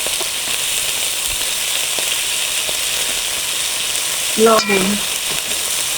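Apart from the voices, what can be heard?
spice masala sautéing in a pan for silver carp curry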